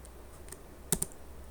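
A computer keyboard is typed on, two sharp close key clicks in quick succession like a shortcut and Enter press, over a quiet background.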